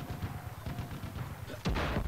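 Video game gunfire rumbles as low, muffled shots through the first part, then a louder, denser burst of shooting erupts near the end and carries on to the close.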